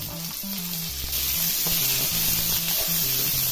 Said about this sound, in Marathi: भाज्या घालून थोड्या परतून घ्यायच्या।